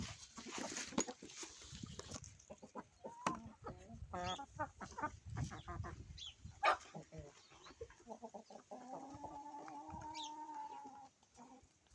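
Chickens cluck and chatter in short rhythmic bursts, with a longer drawn-out call near the end, moderately close in a quiet yard.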